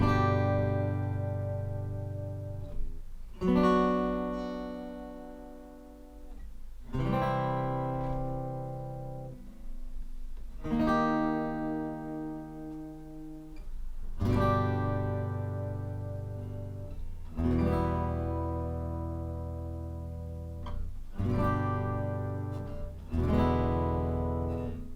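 Acoustic guitar strumming the slow intro chords of a song, each chord struck and left ringing for several seconds, then a series of chord changes, solo and close.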